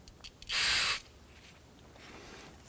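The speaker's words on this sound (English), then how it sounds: "you can use a little bit of spray solvent on a rag" A single short burst of aerosol solvent sprayed onto a rag during a drum brake job hisses for about half a second, loud and close, then fades into quiet room tone.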